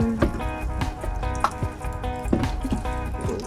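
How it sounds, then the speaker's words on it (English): Water is poured from a small vessel onto a freshly planted purple garlic bulb in soil, giving close, irregular splashing and trickling with soft drips throughout. "Gonna add a little bit of"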